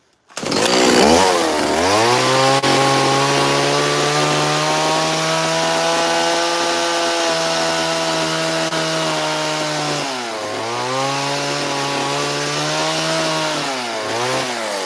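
A chainsaw with a 20-inch bar runs loud and close, its engine holding a steady high whine while cutting through wood, dipping briefly near the end before revving again.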